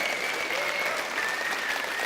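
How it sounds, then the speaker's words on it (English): An audience at a presentation on the production pipeline of the Blender open movie Spring applauds the team in a short, steady, dense burst of clapping, with faint crowd murmur underneath. "So big round of applause for them."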